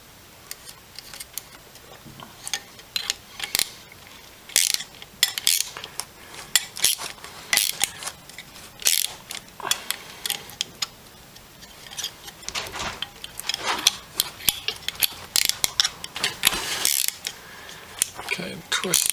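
Small nuts being twisted by hand onto drone motor shafts while fitting propellers, giving a steady run of close, dense metallic clicks and ratcheting ticks with brief louder clacks, no voice.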